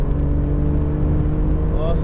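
Alfa Romeo Giulia GTAm accelerating at full throttle, a loud steady engine roar heard from inside the cabin for a couple of seconds, with a voice briefly over it.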